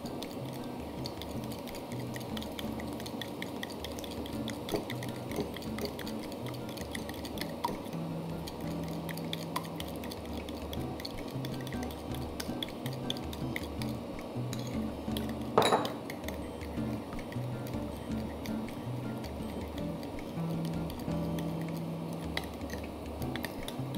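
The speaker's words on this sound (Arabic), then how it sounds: "نخلط المكونات منيح لحتى تتجانس مع بعضها" Caesar dressing ingredients are stirred in a bowl, a close run of soft ticking scrapes and clinks of a utensil against the dish at an irregular pace, with one sharper clatter midway and no talking.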